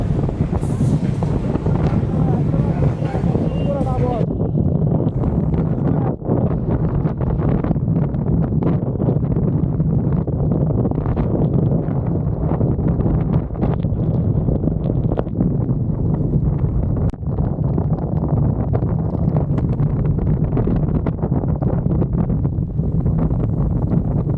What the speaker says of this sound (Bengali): এই মুহূর্তে এখানে হচ্ছে তীব্র বাতাস এবং ঝড় বৃষ্টি